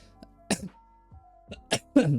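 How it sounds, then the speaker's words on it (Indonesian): A few short, sharp coughs break a quiet room, spaced unevenly with brief silences between them, close to the microphone. "sorry guys, jadi batuk ya"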